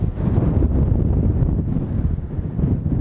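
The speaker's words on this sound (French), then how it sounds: "il y a beaucoup de vent" Strong gusty wind buffeting the microphone outdoors on a golf practice range, a loud, constant low rumble with uneven surges and no voices.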